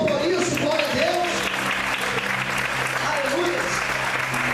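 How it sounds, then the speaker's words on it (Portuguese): A church congregation applauds throughout, with a preacher's voice speaking over the clapping at the start and again near the end. "Você pode aplaudir o Senhor por isso."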